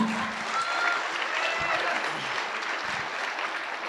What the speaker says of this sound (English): Takbir, round of applause, guys.